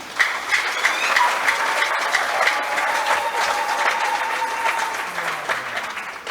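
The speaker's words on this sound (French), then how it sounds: "Pourquoi ne pas applaudir pour ces leaderships?" A church congregation applauds at a celebration of a priest's ten years of priesthood, a dense, steady clapping that holds loud and even from start to finish with no break.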